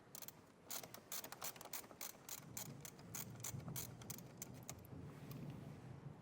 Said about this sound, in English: I'm going to begin is by loosening up this nut right on our battery